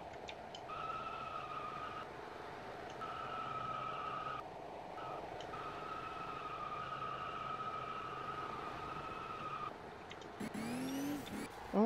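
Mitsubishi FTO engine droning at steady revs while drifting in the Vehicle Simulator video game, a sustained whine with brief drops and a burst of tire squeal near the end.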